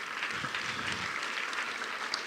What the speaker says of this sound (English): Let's give one another a nice round of applause and say hello.